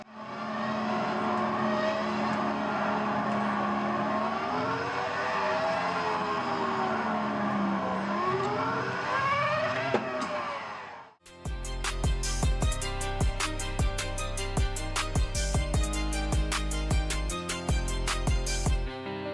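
An F1 car engine in a racing game whines at a high pitch, rising and falling through gear changes for about ten seconds, then cuts abruptly to loud, rhythmic electronic music.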